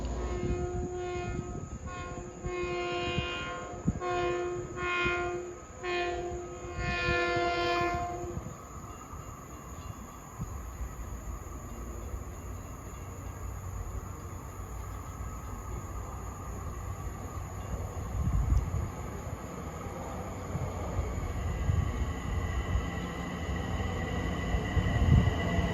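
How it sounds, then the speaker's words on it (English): Long Island Rail Road train of Bombardier M7 electric cars approaching at Farmingdale, sounding a series of loud horn blasts for several seconds, then a steady rolling rumble and rail noise building as it draws closer. "approaching is train 1060 en route from Penn Station to Brentwood with a brace of Bombardier"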